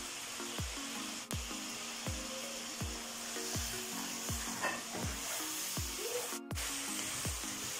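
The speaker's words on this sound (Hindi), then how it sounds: "मटन आपने फुल हाई फ्लेम पे फ्राई करना है" Mutton searing over a full high flame in a karahi fills the air with a loud, constant sizzle and hiss, punctuated by regular metallic knocks from a spoon against the pan about every half second, close and with no talking.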